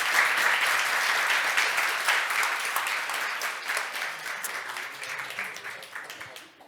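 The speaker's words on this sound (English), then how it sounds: "So an applause to the panel." Sustained audience applause closes a panel session at an international water management conference in Narva, Estonia, dense clapping from a large hall crowd holding steady before tapering off at the end.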